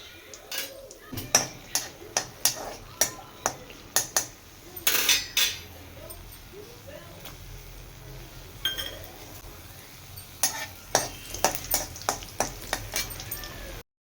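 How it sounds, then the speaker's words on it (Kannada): A metal spoon clinks and scrapes repeatedly against a pan while cashews and raisins fry in ghee, sharp taps coming in quick bursts with a pause in the middle and a faint sizzle underneath. "ಗೋಡಂಬಿ ಸ್ವಲ್ಪ ಕೆಂಪು ಬಣ್ಣ ಬರೋವರೆಗೂ ಸ್ವಲ್ಪ ಫ್ರೈ ಮಾಡಿಕೊಂಡು ಅದಕ್ಕೆ ನಾನು ದ್ರಾಕ್ಷಿ ಹಾಕ್ಕೊಳ್ತಾ ಇದ್ದೀನಿ"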